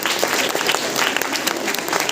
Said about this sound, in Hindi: ताली बजा दो उनके लिए।